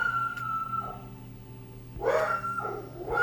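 A dog barks a couple of times in a short cluster, fairly distant and moderate in volume, over a steady electrical hum in an indoor room.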